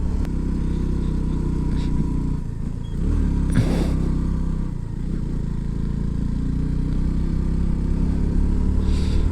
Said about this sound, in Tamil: வண்டி ஏறவே மாட்டேங்குது. 2வது கியரில் 25 ஸ்பீடில் போகுது.